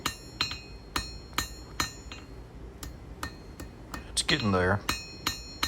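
Light hammer blows ring out on thin steel stock laid on an anvil during coal-forge blacksmithing in cold outdoor air. The strikes are sharp, metallic and evenly spaced, about a dozen in all, and a voice briefly speaks between them.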